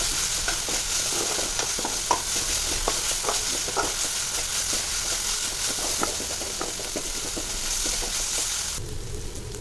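Onions sautéing in a pan for chicken gravy, a continuous close sizzle with a bright hiss and frequent light scrapes and taps of a spoon against the pan.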